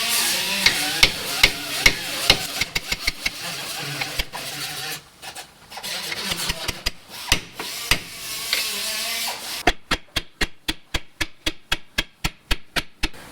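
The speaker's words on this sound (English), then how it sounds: "I'll take a chisel and a hammer and I'll widen that gap a little bit" Hammer blows on a chisel against a rusted ball joint ring out in bursts, then settle into a steady run of evenly spaced, sharp metal-on-metal strikes, loud and close.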